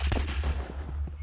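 Rapid gunfire in the video game Rivals, a quick burst of several sharp shots close together within about a second, loud over low background rumble.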